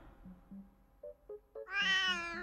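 A cat meows several times in short, separate calls that build to a louder, longer, strained meow at the end, close to the microphone and with no talking over it.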